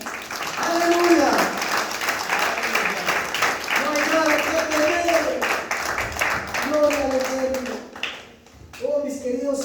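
A church congregation claps during a Spanish-language worship service at Templo La Cosecha: steady, dense applause that rolls on for the whole stretch, mixed with singing and voices.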